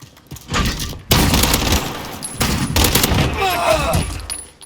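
Rapid bursts from a Fennec Vector submachine gun in a video game, loud close fusillades of automatic fire with short gaps between strings of shots.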